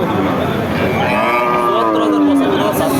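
Cattle mooing at a busy cow market, with a loud, close, drawn-out moo rising and falling over about two seconds above a murmuring crowd.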